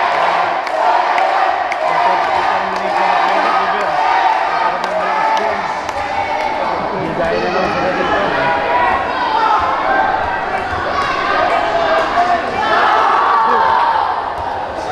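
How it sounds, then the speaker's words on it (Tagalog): A boxing arena crowd roars and chants the name Kenneth during a bout against a Chinese boxer, a dense sustained wall of cheering and whooping from a large audience, with commentary voices over it. "Yung crowd dito, chanting Kenneth."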